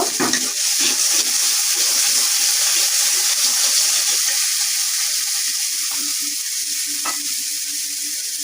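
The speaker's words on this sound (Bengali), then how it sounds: "স্বাদ মতো লবণ দিয়ে নেব মশলাটা কিছুক্ষণ কষিয়ে নেব" Spice paste with salt being fried and stirred in a pan, a loud continuous sizzle close up with scraping stirs throughout, easing slightly toward the end.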